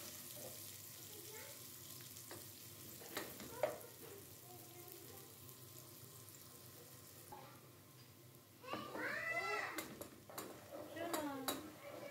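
Chopped onions sizzle steadily in hot cooking oil as a spoon stirs and scrapes the pan, with occasional light clinks and a brief burst of louder activity near the end.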